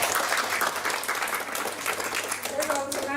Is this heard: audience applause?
yes